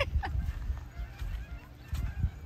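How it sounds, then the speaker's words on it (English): Geese honk in flight in a loose series of calls at a moderate distance, the honks rising and falling over a low rumble of outdoor noise ahead of a winter storm. "Oh, look, the geese are flying."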